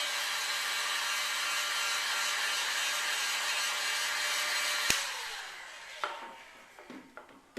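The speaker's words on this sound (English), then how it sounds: "I'm just going to use a little heat gun here to ensure that it's dried up" A small heat gun blows a steady, loud broadband hiss while drying a freshly installed Talon grip on an IWI Tavor rifle, then cuts off with a sharp click, leaving a few faint handling taps.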